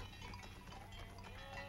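Sheep bleat among soft bells as a flock is let out of its pen to graze in the animated film The Man Who Planted Trees, a dense, distant farmyard murmur with no voices.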